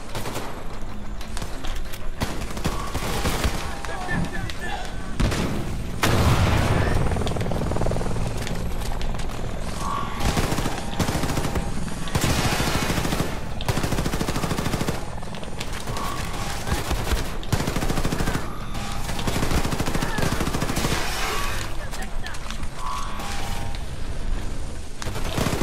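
Sustained gunfire and explosive bursts in Wolfenstein: The New Colossus, loud and dense across the whole stretch, with mechanical whirring and layered combat noise throughout.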